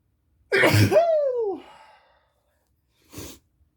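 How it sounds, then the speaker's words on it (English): A single loud sneeze, a sharp burst trailing into a falling, vocal sigh, followed by a short sniff a moment later. "I'm going to sneeze again."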